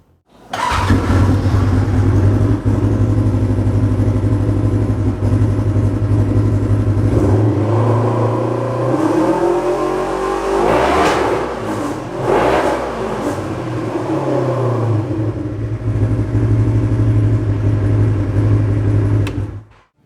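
A Polaris RZR XP 1000 UTV engine with an S&S Offroad PowerTune XTO muffler starts up and idles with a deep rumble, then revs loudly several times before settling back to a steady idle.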